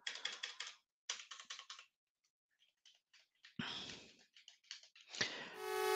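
Computer keyboard keys are pressed in quick clattering bursts and scattered single taps during a retro game session, close and fairly quiet, with a brief rise of other sound at the end.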